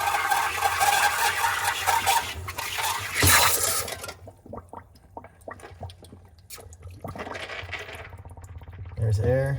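Water gurgling and draining from a cleared frozen drain line in an apartment, with a loud rush early on, then intermittent trickles and glugs under scattered talk.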